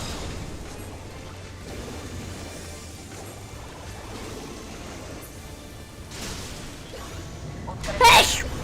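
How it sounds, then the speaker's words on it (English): One sudden, loud sneeze bursts out close to the mic near the end, after a stretch of quiet low background noise during a FFXIV game stream. "not sorry for the sneeze, I'm just sorry that was really loud."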